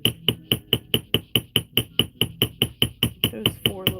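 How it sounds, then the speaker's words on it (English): A chasing hammer strikes wire prongs on a steel bench block, a steady series of about seventeen sharp, ringing metallic taps, close and alone. "I'm going to take my bench block and my chasing hammer,"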